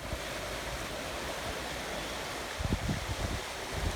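A river flows steadily, a dense unbroken rush of water with a few low thumps and swells toward the end. No voices are heard over it.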